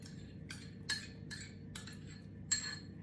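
Wet ingredients for a vegan cake, plant-based milk, melted butter, yogurt and vegetable oil with sugar, being mixed in a bowl, with a quiet series of regular clinks as a utensil strikes the bowl, about six taps.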